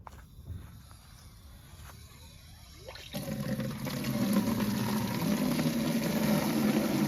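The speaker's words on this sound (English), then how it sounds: "We have to put water in this little one because they can't reach their heads over into the bigger trough" Water splashes and rushes into a small animal trough on a farm, starting suddenly a few seconds in and then pouring on steadily and close by, after a quiet stretch of faint outdoor rustling.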